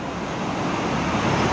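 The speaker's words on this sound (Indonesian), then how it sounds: "12 lebih 5 menit ada bus kota ya" A city bus passes on a busy arterial road near a toll-road underpass stop, its steady, loud engine and tyre roar rising slightly as it nears, with surrounding traffic noise and no talking.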